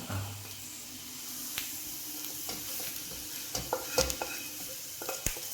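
Hot fried tempering goes into a tapioca and coconut-milk dish, a quiet sizzle with scattered crackles and a few sharp clicks of stirring, close but soft.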